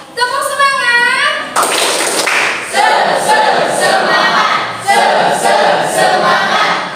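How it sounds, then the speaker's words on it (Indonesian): A group chants loudly together with bursts of rhythmic hand clapping, close by, with voices throughout. "Tepuk semangat."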